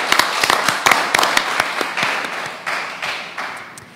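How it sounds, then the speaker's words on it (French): Applause from the audience at a Parti Québécois press conference on a digital plan, a steady crowd clapping with dense overlapping claps that slowly thin and fade over a few seconds. "Ben, merci, on s'applaudit."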